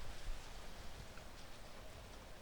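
Gentle, even rain from a thunderstorm patters steadily throughout, a low continuous wash of drops with nothing else standing out.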